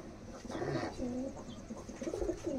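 Flying pigeons kept by a pigeon fancier give soft, low, close cooing in a few rounded, throaty phrases over faint background noise.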